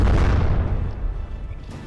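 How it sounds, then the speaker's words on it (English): Frag shells ricocheting off a ship in the naval combat game From The Depths: a single deep, muffled boom that rumbles and fades over about two seconds. "Just those frag shells ricocheting off of the Tiny Tim."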